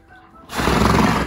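A horse lets out a single loud, close neigh that bursts in after a quiet moment and rings on to the end.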